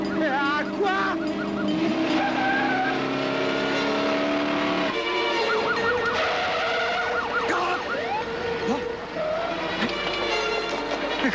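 A car fitted with a Porsche engine races past at speed, its roaring engine layered with siren-like wails and dense mixed noise, loud and continuous throughout.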